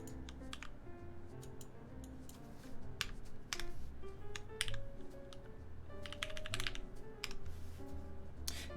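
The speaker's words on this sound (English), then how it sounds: "Now that I'm typing on this, it sounds better than I thought." Rapid clicking keystrokes on a computer keyboard, uneven in rhythm, close and fairly quiet over a low background hum.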